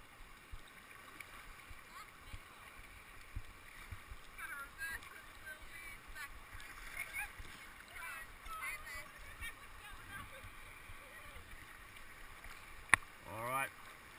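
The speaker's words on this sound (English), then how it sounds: "We're riding this rapid with you." A kayak paddling down a rapid on the Goulburn River during a school kayak camp: steady rushing whitewater and splashing under faint, distant voices, with a brief sharp knock near the end.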